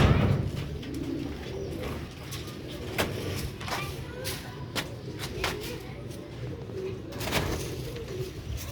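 Rooftop pigeons of the Sialkoti breed cooing repeatedly near the microphone over faint background noise, with soft murmurs and brief sharp clicks or knocks in between.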